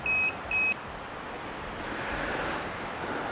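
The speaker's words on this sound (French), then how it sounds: "Donc je remets l'alarme." An egg incubator alarm gives two short, steady electronic beeps, each about a quarter second, near and clear over a soft background hiss, then stops.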